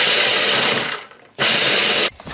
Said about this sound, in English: Put that in the food processor. And this, you just want to give it some, you know, quick shot